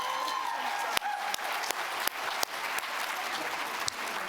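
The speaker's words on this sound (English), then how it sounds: "Can we give Dolores another round of applause" An audience at the Wallace Foundation Distinguished Lecture applauds a speaker, a broad wash of close, continuous clapping with a few sharper claps standing out.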